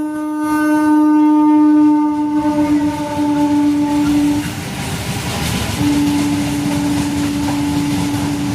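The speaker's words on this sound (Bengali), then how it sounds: "ট্রেনটা আসছে এখন, আমি একটু এখানে বসি।" A train pulls into Bethua station with a loud, sustained horn blast that sounds twice, separated by a short gap, over the steady rumble of the moving carriages.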